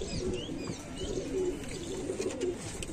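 Sialkoti pigeons, a two-year-old breeding pair, coo softly and repeatedly against a steady background hum, with faint chirps mixed in.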